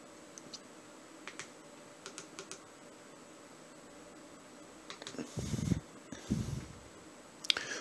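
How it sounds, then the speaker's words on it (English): Keys tap on a small MX3 2.4GHz wireless keyboard air mouse remote, light scattered clicks at first, then a faster cluster of typing over a steady faint hiss, no talking. "So it works just like a regular keyboard, nice and seamless."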